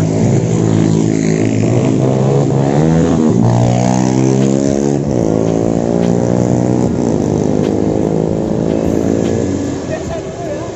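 A Yamaha X-Ride motorcycle with a 150cc bored-up engine revs loudly up and down nearby, the pitch rising and falling over a continuous rumble, with voices briefly heard.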